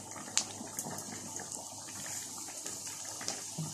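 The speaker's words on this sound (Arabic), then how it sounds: "سامعين صوت غليان البطاطس؟" Potatoes boiling in a pot on a kitchen stove, a steady soft watery bubbling and hiss with a few light clicks, fairly quiet and continuous with no talk.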